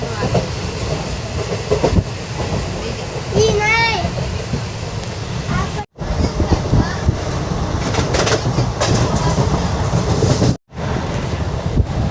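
A train rumbles and clatters steadily over the rails at Amarsar railway station, loud and close, with a brief rising tonal whine and faint voices underneath.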